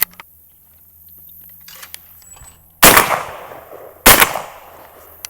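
Benelli shotgun fired twice outdoors, two loud sharp blasts about a second apart with echoing tails, preceded by faint mechanical clicks and handling noise.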